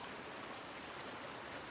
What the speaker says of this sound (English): in this river, in this little creek that eventually feeds into the Colorado